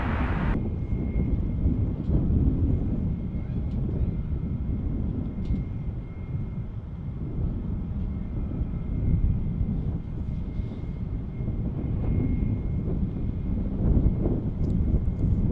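A steady, loud jet engine roar from an American Airlines airliner on approach to DFW airport, a broad low rumble holding evenly throughout with no voices.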